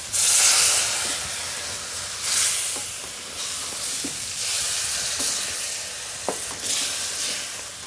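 Ladles of vegetable broth hit bread toasting in extra virgin olive oil, bringing a loud burst of sizzle and steamy hiss. It settles into continuous bubbling with occasional stirring scrapes and small clinks.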